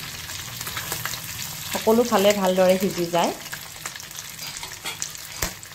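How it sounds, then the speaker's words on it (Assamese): Fish roe frying in a little oil, a steady close sizzle with scraping stirs, overlaid midway by a loud sliding tonal sound and some speech. "এয়া মই ভালদৰে ভাজি আছোঁ।"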